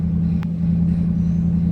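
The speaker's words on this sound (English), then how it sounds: "And the truck's getting kind of loud" A vehicle engine runs steadily with a low, constant hum and rumble, close by and fairly loud throughout.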